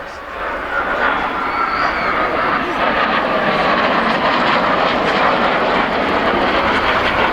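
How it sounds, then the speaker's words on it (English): French Navy Super Étendard jets with non-afterburning Snecma Atar 9K50 turbojets passing at an airshow at Yeovilton, a loud, steady broadband jet roar that swells and holds, with a commentator speaking over it. "See the different lines of these aircraft, the Super E's with a sweep back of around 45 degrees, powered by the non-afterburning Snecma ATAR 9K 50 turbojet."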